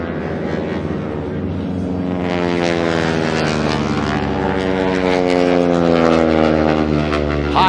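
A T6 trainer's radial engine and propeller roar at an airshow during a snap roll, a loud continuous drone whose pitch slides and wavers as the aircraft manoeuvres overhead.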